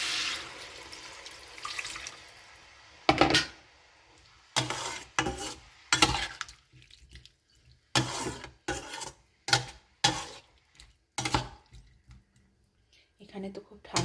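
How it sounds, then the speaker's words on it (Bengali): Warm water poured into a mixed home-cooked dish with mixed vegetables, in a series of short splashing bursts with brief gaps, fairly close. "এবার একটু উষ্ণ গরম জল দিয়ে দেবো।"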